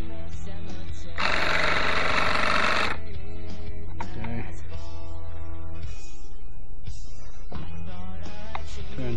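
Small engine being cranked and run outdoors in snow, a loud, continuous mechanical rattle close by with a brief burst of harsher noise early on and shifting tones throughout.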